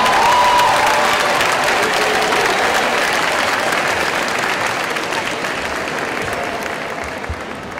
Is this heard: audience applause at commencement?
yes